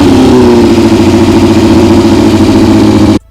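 A Yamaha R6 sport motorcycle engine idles steadily and loudly up close, a smooth even burble with a constant tone that cuts off abruptly near the end.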